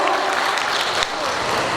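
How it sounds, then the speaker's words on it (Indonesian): An audience at a World Antimicrobial Awareness Week 2022 event applauds, a brief dense wash of clapping that stays fairly loud throughout, with a voice audible underneath. "Tepuk tangan untuk Anda semua Bapak Ibu"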